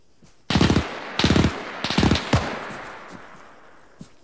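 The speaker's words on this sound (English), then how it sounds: "That machine gun fire is getting close." Bursts of machine gun fire in Arma 3, a World War II player-versus-player battle: three or four rapid strings of shots that are loud and fairly near, each trailing into a long echoing tail, with no voices.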